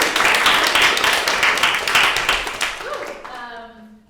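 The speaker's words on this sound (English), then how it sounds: "let's give a round of applause" A crowd claps steadily in loud, dense applause that gradually thins out and fades at the end.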